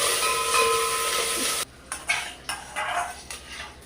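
Mustard seeds, curry leaves and onion frying in oil in a pan, a loud hiss of sizzling that drops off, followed by a few close scraping stirs of a utensil against the pan.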